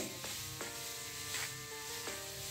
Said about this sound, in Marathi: आणि हे मंद आचेवर व्यवस्थित आपल्याला तुपावर परतून घ्यायचा आहे